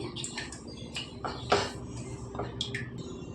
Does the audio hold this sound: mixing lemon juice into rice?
yes